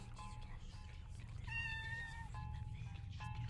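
A cat in the video game OFF meows several times, a series of clear, tonal, drawn-out cries repeated over a few seconds, faint but distinct over a low background hum.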